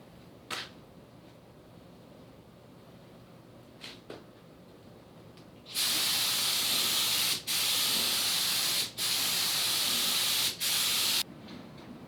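Spray gun laying 2K high build primer on a rusty Jeep TJ rocker panel, loud close hissing bursts, four sustained passes with short breaks between them, after a few faint clicks.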